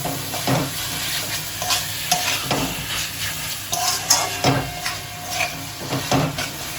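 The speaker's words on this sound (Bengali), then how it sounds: "এবার মাংসের কিমাটা দিয়েও আমি খুব ভালো করে কষিয়ে নেব এই মশলাগুলোর সাথে" Chicken mince frying with spices in a pan for ghugni, stirred vigorously: a close, steady sizzle broken by repeated scraping strokes and clattering knocks of a utensil against the pan, with no talking.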